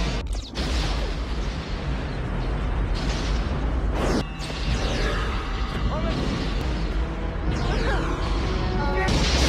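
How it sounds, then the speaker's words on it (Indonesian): Bombs detonating in a film scene of a volcanic eruption and lava flooding a city, heavy booming blasts and rumbling debris layered over dense mechanical noise, with sharp loud impacts near the start and middle. "bom pun mulai diledakkan."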